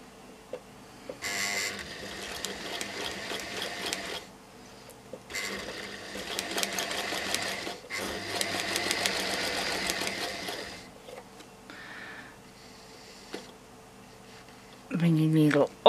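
Sewing machine running a short test seam with needle sunk and threads held, motor whirring in several bursts separated by pauses, under and between spoken instruction.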